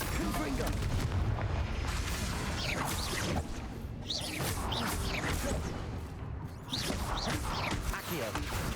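Confringo fire spells burst repeatedly in Hogwarts Legacy combat, a dense run of booms, crackling blasts and whooshes layered over continuous game music and effects, with a voice calling out spell names over the din.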